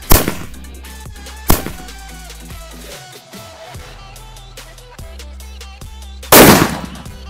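A sky shot firecracker set upside down on the ground bursts with sharp, loud explosive cracks, one at the start, another near two seconds and a big final blast, with crackling pops scattered in between.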